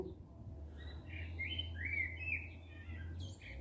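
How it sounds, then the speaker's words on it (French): Several birds chirp and call high and thin over a low, steady background hum, faint and somewhat distant. "J'aime entendre le cri des oiseaux qui volent très haut, très haut."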